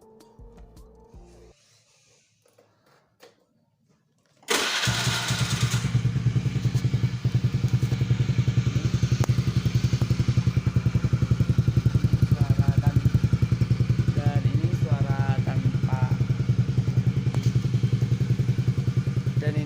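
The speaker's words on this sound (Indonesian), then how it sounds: "kita nyalain dulu si knalpotnya" A motorcycle fitted with a homemade exhaust kicks into life after a few quiet seconds, then idles loudly and steadily with a rough, throbbing drone right up close.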